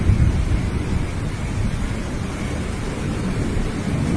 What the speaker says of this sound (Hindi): आसमान में घने काले बादल छा जाते हैं और थोड़ी ही देर में जोरदार बारिश शुरू हो जाती है।